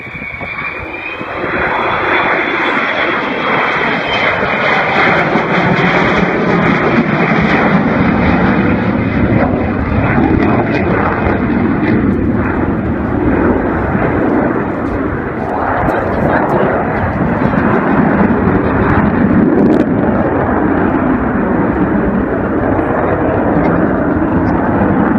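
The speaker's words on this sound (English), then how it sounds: "keeping this 55-year-old aeroplane flying" A 55-year-old restored Avro Vulcan bomber flying at the Throckmorton airshow, its engines a loud, sustained roar with a high whine that holds steady for the whole stretch, while a commentator talks over it.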